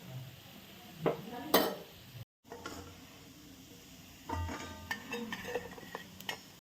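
Shankarpali sweets frying in oil on full flame, a soft bubbling sizzle with scattered ticks and scrapes of a utensil against the pan, a brief dropout midway, quiet and close with no speech.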